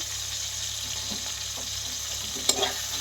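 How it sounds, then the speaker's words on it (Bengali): Chili and grated ginger frying in a pan, a steady soft sizzle running under faint stirring scrapes, with a brief louder clink near the end. "সবগুলোকে একসাথে ভালো করে মিশিয়ে এটাকে একটু সময় নিয়ে ভাজতে হবে।"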